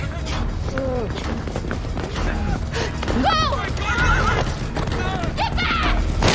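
Horses neigh and whinny repeatedly amid galloping hooves in a tense TV drama scene, loud and close, mixed with shouting voices.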